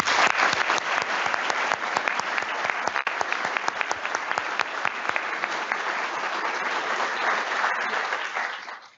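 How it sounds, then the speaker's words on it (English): Sustained applause from a large audience at a Navy change of command ceremony, a dense steady patter of many hands clapping for about nine seconds before tapering off at the end. "Please join me in thanking them with a round of applause"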